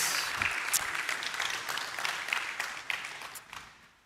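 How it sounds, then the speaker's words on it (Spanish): An audience in church applauding, a continuous bright patter of many hands clapping at steady strength before tapering off at the close. "Este aplauso es para ti."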